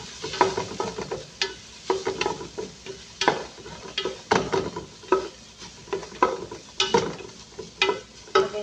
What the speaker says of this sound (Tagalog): Iginisa ko na siya.